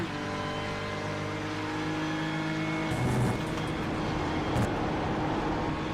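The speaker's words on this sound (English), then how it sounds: "Just been listening to the engine of Sebastian Jobe into La Source, a little bit of a lift" A GT race car engine at the 24 Hours of Spa drones at steady high revs into La Source corner, then drops in pitch as the driver lifts off the throttle, loud and continuous with no talk.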